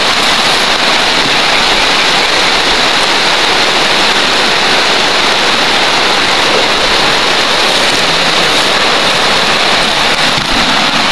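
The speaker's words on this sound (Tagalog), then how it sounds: "Lumakas na yung ulan." Heavy rain pours down steadily and loudly, a dense, continuous hiss close by with no break and no voices over it.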